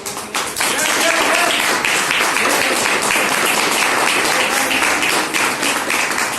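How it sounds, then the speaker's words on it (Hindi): A meeting audience gives loud, sustained applause, a thick wall of clapping from many hands that holds steady from start to finish. "तो एक जोरदार तालियां बचाऊंगा"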